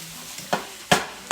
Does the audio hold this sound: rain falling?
no